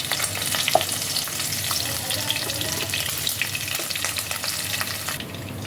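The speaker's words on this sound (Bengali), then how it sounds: "মাছগুলোকে এভাবে কড়া করে ভেজে নিতে হবে।" Tangra fish frying crisp in hot oil in a kadai, a steady, dense close-up sizzle and crackle that runs unbroken throughout, with no voices.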